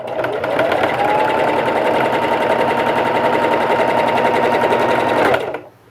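Stitching a fabric face mask, a sewing machine runs fast and close for about five seconds with an even, buzzing whir before stopping abruptly, with no talk.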